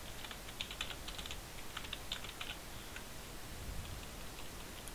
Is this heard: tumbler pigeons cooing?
no